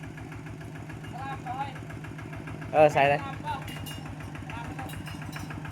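A farm tractor engine idles steadily with a low, even chugging throb throughout, while someone talks briefly over it.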